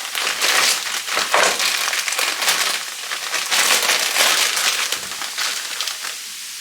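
A plastic bag of ingredients for homemade rabbit and vegetable pies is pulled open and crinkled by hand, with loud continuous crackling and crumpling up close and brief dips between bursts.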